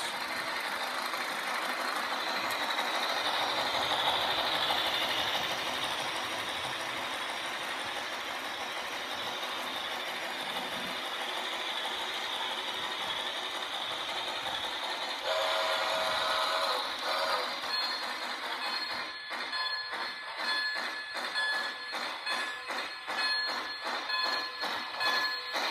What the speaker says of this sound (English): You got to see this entire train set running in